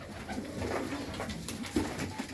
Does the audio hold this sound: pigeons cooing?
yes